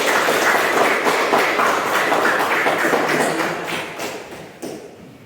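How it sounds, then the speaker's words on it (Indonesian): A classroom of students applauding for a classmate, heard as dense, moderately loud clapping that fades gradually toward the end, with a few sharper taps and thuds. "tepuk tangan dulu buat Resti"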